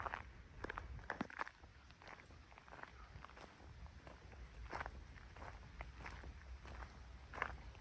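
Footsteps walking along a gravel-and-stone path on a hill through a forest in a German village, steady crunching steps heard fairly close at low level with a soft breeze in the background.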